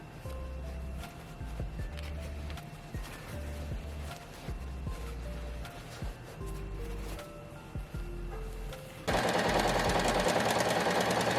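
A sewing machine stitches a skirt onto the bodice of a wrap dress made from bedsheet fabric, running in uneven bursts of low rhythmic whirring before a louder, brighter steady noise takes over near the end.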